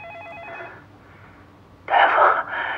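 A telephone rings with a short, warbling electronic tone in a quiet room during a patient's visit to a doctor, then a louder burst of broadband sound follows near the end.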